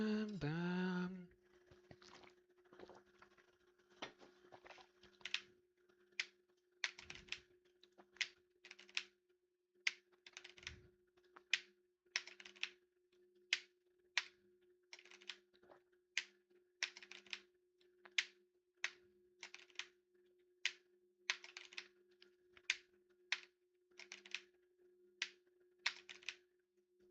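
Someone types on a computer keyboard while playing Happy Wheels, producing soft, quiet clicks and taps. The keystrokes fall in an irregular but steady patter, with short bursts and pauses and no talking.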